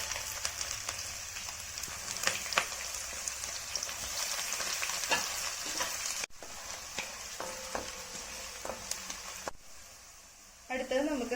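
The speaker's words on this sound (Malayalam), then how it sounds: "ഇതിലേക്ക് നമുക്ക് ആദ്യം ഇഞ്ചിയും വെളുത്തുള്ളിയും ഇട്ട് കൊടുക്കാം." Ginger and garlic frying in a pan for Kerala-style beef stew, giving a steady, faint sizzle with a few stirring clicks and scrapes that briefly drops away near the end, with talking over it.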